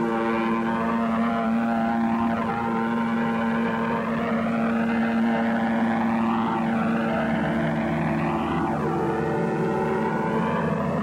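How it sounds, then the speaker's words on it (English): British WWII fighter planes over Dunkirk roar steadily with droning propeller engines, pitch sweeps marking several aircraft diving past, loud and continuous without talk. "High overhead, British fighter planes fought the Luftwaffe to a standstill."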